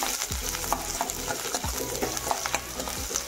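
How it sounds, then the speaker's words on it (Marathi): Chopped onion sautéing in a pan for a soya chunk curry: a continuous sizzle broken by regular spatula scrapes and knocks against the pan, roughly every second, close and clear. "कांदा आपल्याला छान तांबूस रंग येईपर्यंत परतून घ्यायचा आहे।"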